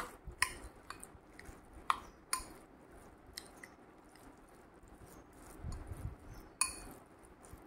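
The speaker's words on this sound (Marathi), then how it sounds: "तर आता आपण हे मिक्स करून घेऊया" Coconut rice is mixed in a pot with a utensil, giving soft squishy stirring under a series of sharp clinks and taps of the utensil against the pot, close and irregular.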